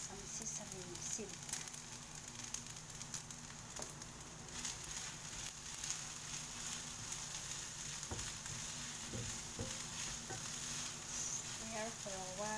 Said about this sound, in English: Stir for a while, then ready to serve.